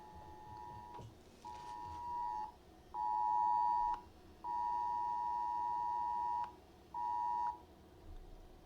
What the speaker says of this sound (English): I have a text message.